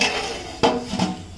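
Two sharp metallic clanks close by, a lid being set and settled onto a pot of mutton biryani, the second slightly softer.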